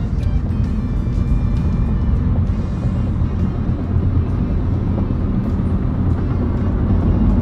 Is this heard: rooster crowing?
no